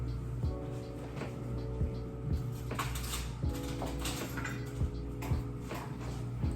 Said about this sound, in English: I'm just gonna simply whisk my ingredients together